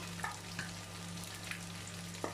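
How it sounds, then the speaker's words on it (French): Potatoes frying in a pan for potato galettes, stirred regularly: a faint, steady sizzle with soft, occasional scraping clicks of stirring every half second or so, heard close and alone. "Et vous voyez, je remue régulièrement"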